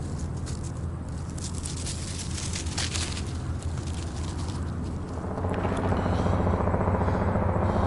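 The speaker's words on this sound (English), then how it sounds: "It's a helicopter. Somewhere abouts." A helicopter's low, thumping rotor drone rumbles steadily in the distance, growing somewhat louder toward the end.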